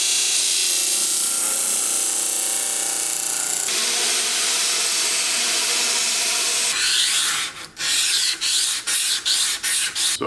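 Grinding out a flaw in knife steel on a nakiri blade: a steady, loud abrasive rush runs throughout, shifts in tone partway, then breaks into short repeated passes with brief gaps near the end.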